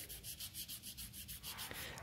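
240 grit sandpaper rubs over a wooden gun stock in quick, even back-and-forth strokes, a soft rhythmic scratching that sounds close but quiet, with no voices.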